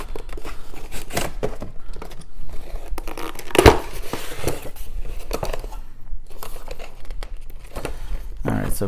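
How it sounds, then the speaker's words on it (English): Cardboard box torn open by hand while unboxing an Infinity N4 set, a sharp ripping burst in the middle amid ongoing crinkling and handling noises, close and fairly loud. "I hate when I tear a box."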